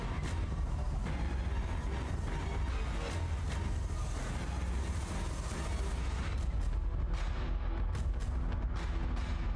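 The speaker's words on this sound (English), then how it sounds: "Missiles incoming." Incoming missiles and explosions in Battlestar Galactica Deadlock, a dense, continuous barrage of booming blasts and rumbling impacts with sharp bursts throughout, loud and unbroken, with no voices.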